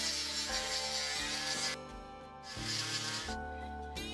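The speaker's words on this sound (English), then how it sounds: "I'll just smooth things up a little bit here and knock off the last bit of welding splatter." Harsh abrasive grinding against a steel beam, knocking off welding splatter, steady and close, with a brief drop in intensity midway before the rasping resumes.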